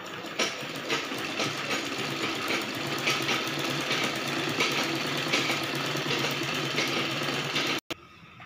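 Sewing machine running steadily while stitching a blouse back neck, a continuous close mechanical whirr with fast rhythmic needle clatter that cuts off abruptly near the end.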